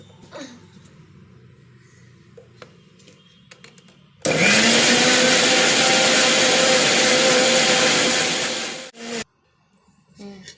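A mixer grinder loudly whirs through a banana milkshake for about five seconds, starting abruptly after quiet kitchen sounds and cutting off, followed by a brief second burst.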